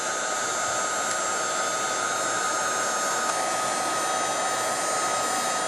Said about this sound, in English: So now I'm going to take my heat gun.